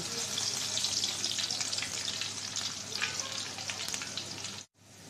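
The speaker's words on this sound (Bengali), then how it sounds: "একইভাবে এই তেলের ভিতরে আমি রসুন ভেজে নেব" Steady, crackling sizzle of garlic frying in hot oil, close and fairly loud throughout, stopping abruptly near the end.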